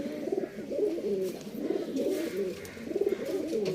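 A pair of pigeons, a male and a female, coo in close, rolling phrases that repeat steadily and fill the space with no other sound.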